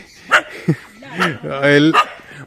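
A dog gives a few short barks and yips nearby in a tribal village in Idukki, Kerala, interspersed with a voice speaking.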